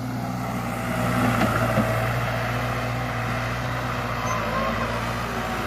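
A New Holland 7500 tractor drives down into a pit, its engine giving a steady, loud drone that runs continuously with a slight swell near the middle.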